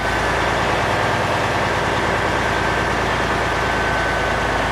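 A truck engine is held at raised RPM during an air brake pretrip check, producing a steady, loud, low diesel drone that stays constant throughout with no voices.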